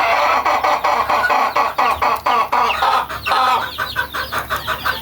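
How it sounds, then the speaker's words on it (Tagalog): Young chicks peep and chirp in a busy, continuous flock, with rapid overlapping high-pitched calls and a few louder clucks, close and steady throughout. "shake lang natin at bigyan natin yung 5 yung sisiw ni Bangkas"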